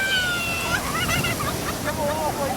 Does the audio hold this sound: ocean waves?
yes